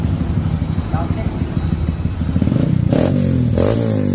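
Wave 125 motorcycle converted with Suzuki parts and fitted with a Chan Speed power pipe exhaust, revving loudly up close, its deep burbling idle swelling into sharper throttle blips toward the end, with voices in the background.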